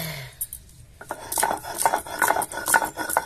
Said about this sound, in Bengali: আগে সর্ষেটা বেটে নিই, দুটো কাঁচা লঙ্কা দেব